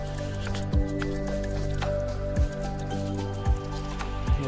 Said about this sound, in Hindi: ये पानी निकलता है डैम से